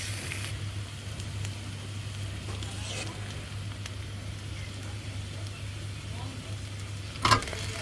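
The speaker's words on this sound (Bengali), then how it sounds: "একসাথে পেঁয়াজ আর চিংড়ি মাছ একসাথে ভাজা ভাজা করে নেব" Steady low sizzling of shrimp and onion frying in a pan, continuous and fairly quiet, with a brief clatter near the end.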